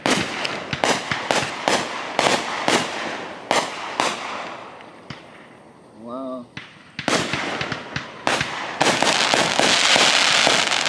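Fireworks crack and pop in rapid bursts after a Greensboro Grasshoppers baseball game, some sharp and close, with a brief lull and a whistling rocket before a dense barrage resumes.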